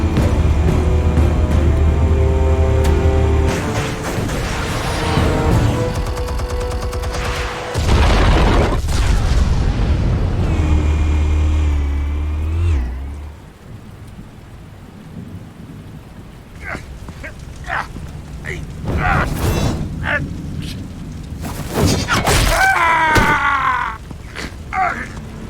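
Explosions detonating in Batman: The Telltale Series, with heavy booming bursts over a thick game score and rumbling low end, followed by quieter scattered impacts and crackling debris.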